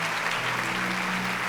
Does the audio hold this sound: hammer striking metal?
no